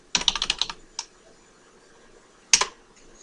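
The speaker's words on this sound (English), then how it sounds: "I'm going to type in wblock for write block" Typing a command on a computer keyboard, a quick run of about six key clicks, one lone keystroke, then a final firmer press after a pause, close and fairly soft with no talking.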